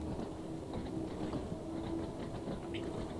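Little tube train of the Island Line on the Isle of Wight in Train Sim World 2, running at up to 45, a steady low rumble with faint rattling and clicks throughout, no voices.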